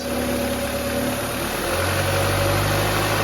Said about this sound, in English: All right, put it in gear.